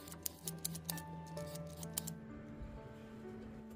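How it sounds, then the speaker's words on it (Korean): A knife cuts peeled radish into thin slices, giving a quick run of sharp, light taps for about two seconds before fading to quiet rustling. "무도 청과 같은 길이로 썰어줍니다. 두께는 얇게 썰어주는 것이 더 좋습니다."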